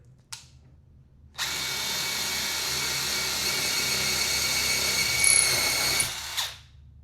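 A generic impact driver fitted with a drill bit whines steadily at close range for about five seconds after a brief tap, its pitch holding level before it winds down and stops.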